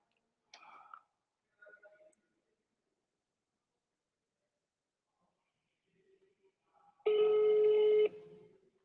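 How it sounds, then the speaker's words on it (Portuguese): A telephone call is placed: a few short dialing beeps, a pause, then one long, loud electronic ring tone close to the handset, with no voices. "Vamos entrar em contato aqui com o Marcos"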